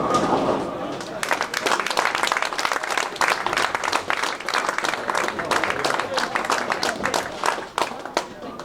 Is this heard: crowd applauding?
yes